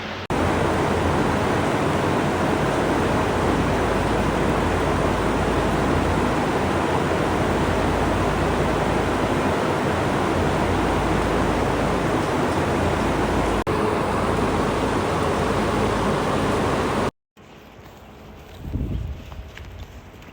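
Two big fans cooling reindeer inside a barn during a heat wave, a loud steady broadband rush of air filling most of the clip, then cutting out abruptly to quieter barn sounds near the end.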